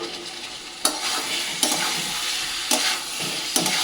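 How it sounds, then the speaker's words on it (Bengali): Chital fish fried earlier is stirred into a pan of potatoes and spices, a steady sizzle broken by four sharp scraping strokes of the spoon at regular intervals, close and loud with no talk. "এই যে ভেজে রাখা চিতল মাছটা আমি দিয়ে এটার সাথে ভালো করে কষিয়ে নেবো"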